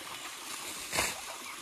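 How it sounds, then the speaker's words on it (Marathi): Running water flowing steadily in the background, with a brief louder splash midway. "खूप छान असं पाणी असं वाहत वाहत येत आहे"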